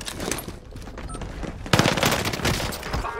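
Heavy automatic gunfire in a shooter video game: a dense, loud fusillade of rapid shots and booms that erupts sharply partway through and keeps pounding to the end, over a lower rumble of battle noise.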